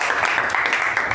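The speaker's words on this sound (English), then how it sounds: "give a huge round of applause to our VPE" Meeting audience gives a brief round of applause for the VPE, a dense patter of many hands clapping at once, fairly close and steady.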